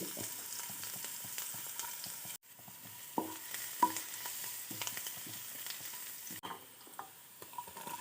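Ginger and garlic fry in coconut oil in a hot pan for a koorka curry, giving a continuous soft sizzle broken by small crackles and the scrape of stirring, quiet and close with no talking.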